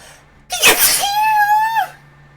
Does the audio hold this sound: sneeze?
yes